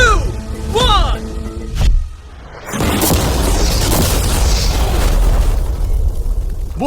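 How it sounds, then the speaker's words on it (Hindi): A normal car blown up with mannequin passengers inside, a loud broadband boom that rises after a brief lull and roars on as a sustained, rumbling blast and burning crash for several seconds, following voices beforehand. "चलो उड़ाते हैं एक नॉर्मल कार को और देखते हैं कि पैसेंजर्स बच पाते हैं या नहीं"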